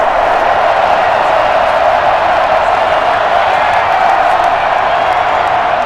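A steady, dense roar of a large stadium crowd cheering in the Madden NFL 21 video game, loud and unbroken from start to finish with no distinct individual voices.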